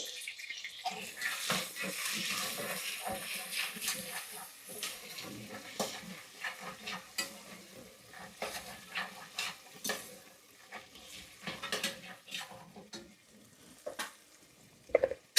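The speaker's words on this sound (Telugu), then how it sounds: "ఇప్పుడు ఇవన్నీ అలసందలు పచ్చి అలసందలు వేసేసుకోవాలి" Raw black-eyed peas tumble into a hot pan and get stir-fried, with a soft continuous sizzle and repeated scraping stirs close by, no talking over it.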